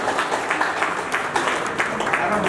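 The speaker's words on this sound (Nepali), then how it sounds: "भव्य तालीले स्वागत गरिदिन हात दिन गर्नुहुन्छ।" An audience at a Kavre Sewa Samaj general assembly claps to welcome the chief guest, a minister, with rippling, uneven applause from a hall crowd that swells in bursts and carries on steadily.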